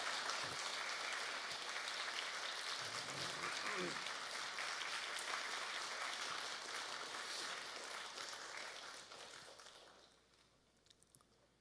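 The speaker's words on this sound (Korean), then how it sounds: "우리 큰 박수로 함께 하시겠습니다." A congregation applauds during a Korean Sunday church service, a long, even wash of clapping that stays steady and then tapers off, ending in a few scattered claps.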